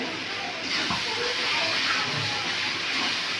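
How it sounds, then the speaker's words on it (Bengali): Spice paste hissing and sizzling as it drops into a hot kadai in a home kitchen, a continuous loud broadband sizzle that swells slightly and holds steady. "এই যে মশলাগুলো যে পেস্ট করা ছিল মশলাগুলো চলে গেল কড়াইয়ের মধ্যে"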